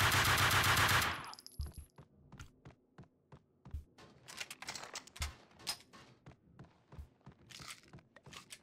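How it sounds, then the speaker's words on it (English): Gunfire aimed at the player in the video game Max Payne 2 follows a loud opening burst, with scattered sharp shots cracking in irregular bursts at moderate loudness and no talk. "Who's shooting at me?"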